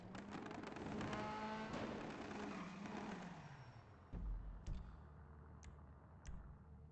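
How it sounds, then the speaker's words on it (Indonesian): A fast car in a video game, a loud engine whine that sweeps down in pitch as it passes, followed by a few sharp knocks and ticks as the sound fades. "Itu suara mobil kenceng banget pasti kan?"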